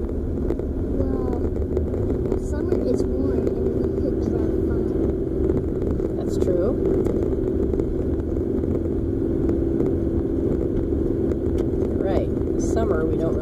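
A car climbs a hill in first gear at about 16 miles an hour in winter, its engine a steady low drone throughout while people talk inside.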